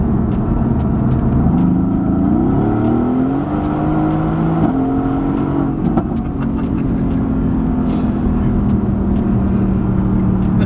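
A Mercedes-AMG GT S Edition One engine drones loudly and steadily from inside the car, rising in pitch as it accelerates and then holding a sustained note at speed.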